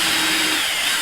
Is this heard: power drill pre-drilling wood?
yes